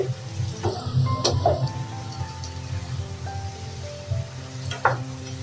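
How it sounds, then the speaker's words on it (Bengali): Winter vegetables cooking in a pan with a soft, steady sizzle and intermittent stirring scrapes and utensil taps, moderately close, with no talking. "সবজিগুলোকে দুই তিনবার করে নেড়ে চেড়ে দিতে হবে সবজিগুলা সবজিগুলা সিদ্ধ হওয়ার পথে"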